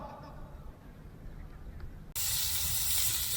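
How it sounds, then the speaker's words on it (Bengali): Eggplant fritters drop into hot oil, and a low simmering bubble suddenly jumps into a loud, steady frying hiss that stays close and continuous. "আজকে ভাজবো।"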